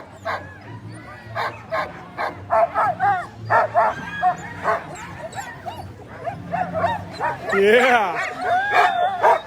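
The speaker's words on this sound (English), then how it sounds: "Look at that happy dog" Sled dogs yip, whimper and bark excitedly at the start of an open-class sled dog world championship race on a city street, a lively chorus heard under a commentator's talk, with one louder howl-like cry near the end.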